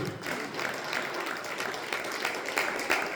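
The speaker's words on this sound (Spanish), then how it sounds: "Denle un aplauso fuerte a Jesús." A church congregation applauding together, a steady broadband wash of claps that fills the short stretch at moderate volume with no clear voices over it.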